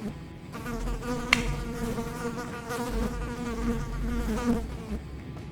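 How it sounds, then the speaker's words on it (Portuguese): Housefly buzzing close to a microphone indoors, a steady droning hum that wavers in pitch as it circles, continuous and fairly loud with no talking. "tem essa mosca incomodando aqui"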